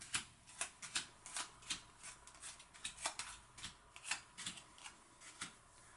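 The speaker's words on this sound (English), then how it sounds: "At the beginning of each round, shuffle the action cards" Action cards for the board game Capital Vices are shuffled by hand, a quick run of soft, close riffling and snapping bursts repeating in an uneven rhythm with no talk.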